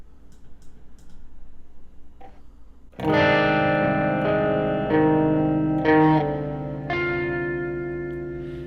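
After a few quiet seconds of faint background noise, an electric guitar through a Klowra Limbo reverb pedal strikes chords that ring out with a washy, lingering reverberant tail.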